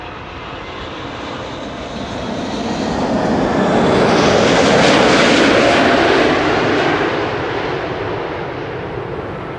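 An Emirates Airbus A380 jet passes at an airport with a broad, heavy engine roar that swells to a peak midway and then slowly fades, loud and continuous with no talk.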